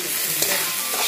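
Ground spices, including ginger, chili and cumin pastes with salt, are stirred in a hot pan for muri ghonto, giving a brief close scraping sizzle with no voices.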